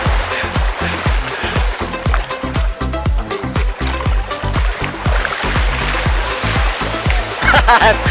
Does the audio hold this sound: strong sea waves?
yes